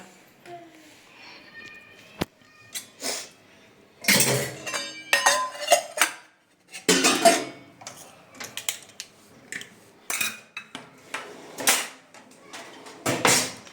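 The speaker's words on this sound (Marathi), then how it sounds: "ही भांडे घासून घेते कुकर वगैरे सगळं" Dishes and a pressure cooker are scrubbed and handled at a home sink, with bursts of clinking metal, scraping and knocks spread irregularly between pauses, close by and fairly loud.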